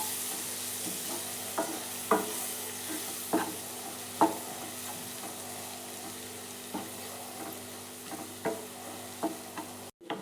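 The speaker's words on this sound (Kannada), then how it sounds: "ಇದನ್ನು ಅಷ್ಟೇ ಸ್ವಲ್ಪ ಬಟರಲ್ಲೇ ಚೆನ್ನಾಗಿ ಫ್ರೈ ಮಾಡ್ಕೊಳ್ಳೋಣ" Finely chopped onion frying in butter in a pan for masala egg curry. A steady soft sizzle runs throughout, broken by periodic clicking scrapes of a spoon stirring, and near the end comes a brief dropout and a clatter.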